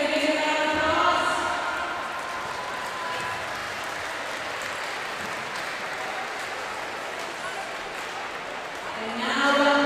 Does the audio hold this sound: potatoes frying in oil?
no